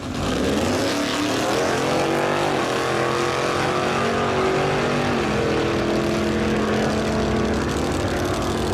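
A loud engine roars continuously with rising, revving pitch as a car accelerates hard down a drag strip, close by and steady for several seconds.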